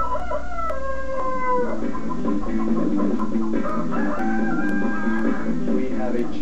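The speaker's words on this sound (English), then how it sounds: "We have a chicken in our house." Chickens kept inside a family house, a rooster crowing and hens clucking in overlapping calls near at hand, with people talking faintly in the background.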